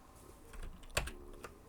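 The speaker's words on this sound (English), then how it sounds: "press the delete key on the keyboard" A single key press on a computer keyboard, heard as a soft, close click with faint taps around it in a quiet room.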